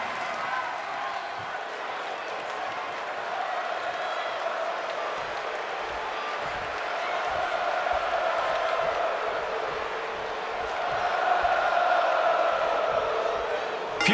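Video game crowd of the WWE Universe in WWE 2K24 cheering for Seth Rollins, a steady roar that swells louder near the end, with no talk over it.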